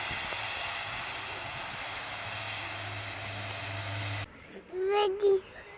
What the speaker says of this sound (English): Is the airplane ready? There's the roar, and it is. What a sound, what a beautiful sound.